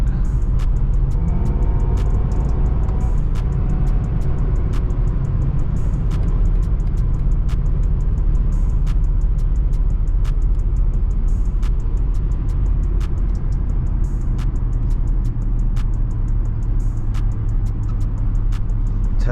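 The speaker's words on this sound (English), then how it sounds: "This car makes some real interesting noises." Steady low engine and road rumble from a 2022 BMW 750i cruising at night, a continuous drone with faint periodic ticks and a brief murmur of talk early on.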